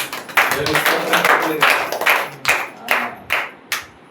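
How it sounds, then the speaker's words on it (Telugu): A church congregation claps in rhythm, sharp, close hand claps in an even beat that later breaks into separate, spaced bursts, with voices faintly mixed in beneath. "కొట్టండి, చప్పట్లు కొట్టండి"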